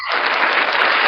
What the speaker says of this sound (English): I have the clapping, the applause